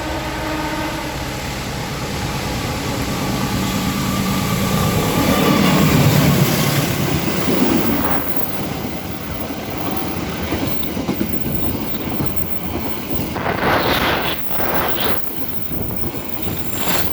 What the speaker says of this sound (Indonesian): barusan melintas kereta api Pandalungan